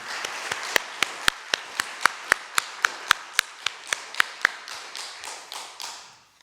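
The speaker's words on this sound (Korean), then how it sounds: "우리 성도님들께서 다비다 찬양전들에게 힘찬 격려의 박수 주시면 감사하겠습니다" A church congregation applauding the Tabitha choir, heard as sharp, evenly spaced claps in a steady rhythm, loud and distinct, about twenty in all, then softening and trailing off near the end.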